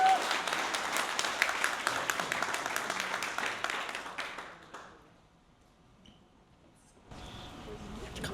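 Wedding guests applaud as the bride's parents are invited up, a dense round of clapping that fades out near the middle, followed by a quiet pause and then room noise.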